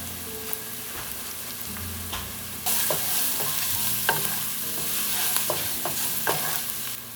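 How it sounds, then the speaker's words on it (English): Onion sautéing in a pan with Italian seasoning and garlic spread, a steady sizzle that grows louder partway through, broken by scattered sharp clicks and scrapes of stirring, close and without talk. "I'm also going to go ahead and add my other seasonings into my sauteing onion."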